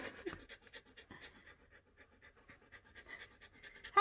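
A husky dog pants steadily and close up, quick rhythmic breaths running throughout with no talk over them.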